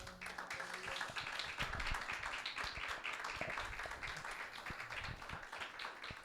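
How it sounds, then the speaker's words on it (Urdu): A church congregation claps together at a Sunday meeting, a faint, steady patter of many hands heard from a distance, sustained evenly throughout. "یسوع مسیح کے لیے تالیاں بجائیں کلیسیا."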